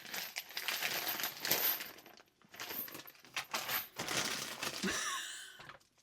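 A big bag of gold-tone and silver-tone beads is shaken and handled, giving close, bright, clinking rattles in uneven bursts with short pauses between them.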